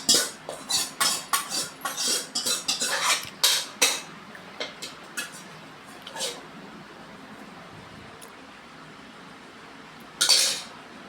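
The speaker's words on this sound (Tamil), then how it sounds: "நல்லா வெந்து போன கீரையாக அப்படியே மொத்தமாக கொட்டிக்கலாம்." Cooked amaranth greens tipped into a pot, heard as a burst of clattering metal clinks and knocks over the first four seconds, followed by a few sparse taps and one final clatter near the end, with no talking.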